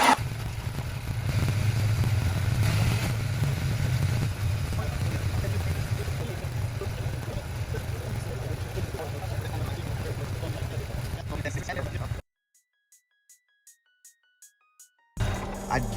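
A 1993 Mustang Cobra turbo Foxbody engine idles steadily with a low, even rumble for about twelve seconds, then drops to near silence broken by a few soft regular ticks before the idle returns.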